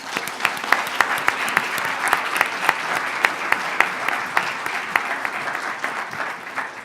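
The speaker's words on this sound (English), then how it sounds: "Let's give Sean a round of applause." Audience applause at a business pitch competition, sustained steady clapping from a crowd with sharper individual claps standing out, filling the room without speech.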